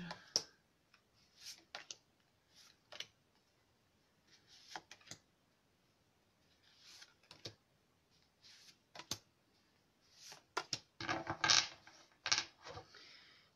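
Oracle cards being shuffled and drawn, irregular soft flicks and snaps of card stock spread across the stretch, getting denser and louder toward the end, in an otherwise quiet room.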